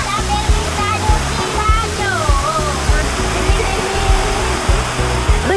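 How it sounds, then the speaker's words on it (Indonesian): A steady roar of rushing water from the Gunung Rian waterfall in North Kalimantan, Indonesia, runs continuously beneath a loud voice and tonal background sounds. "Salah satunya air terjun Gunung Rian."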